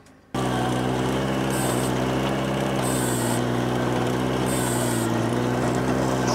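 A Ventrac tractor with a trencher attachment runs steadily, its engine droning loud and close without a break, with a few higher whining surges on top and no speech.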